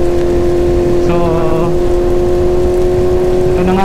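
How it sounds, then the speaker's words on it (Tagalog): Rain falls during a wet tandem motorcycle ride toward Tarlac, Philippines, a steady loud hiss of downpour and wind over a constant engine drone. "ito na nga kami, basang-basa sa ulan, walang masisilungan."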